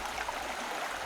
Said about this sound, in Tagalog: Kailangang tawirin ang rumaragasang ilog ng Marag.